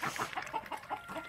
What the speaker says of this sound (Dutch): Hier zijn de eendjes.